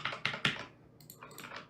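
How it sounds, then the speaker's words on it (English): Rapid clacking of computer keyboard keys during a programming session, a quick burst of three sharp keystrokes followed by lighter, scattered typing, close and clear with no talking. "I'm here for programming. Stayed for the keyboard sounds."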